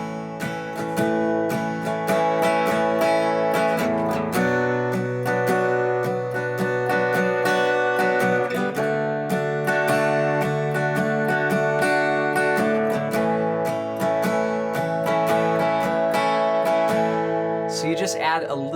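An acoustic guitar plays a song's chord progression at a slower pace with a swinging strum, rich and sustained chords ringing close up, ending in a final held strum.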